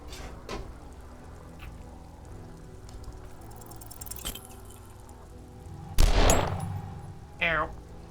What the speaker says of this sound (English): A low shot rings.